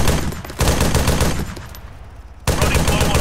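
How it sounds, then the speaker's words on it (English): Sustained machine gun fire in a firefight, dense rapid bursts that drop back briefly and then resume loud and close, with no voices over it. "We're under fire, right? We're firing."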